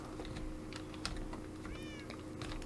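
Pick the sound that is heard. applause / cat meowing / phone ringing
cat meowing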